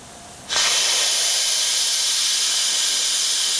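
Live steam vertical factory steam engine releasing a sudden, loud, steady hiss of steam that starts abruptly after a brief quiet moment and holds constant to the end.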